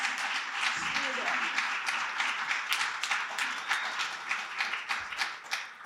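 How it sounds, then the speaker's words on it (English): Audience applause at a diversity and inclusion summit, steady dense clapping that carries on for several seconds with a few loud cheers. "let's give him a round of applause"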